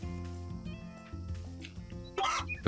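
Chickens cluck in the farming game Story of Seasons: A Wonderful Life, short squawks and clucks over looping background music, with a louder flurry near the end.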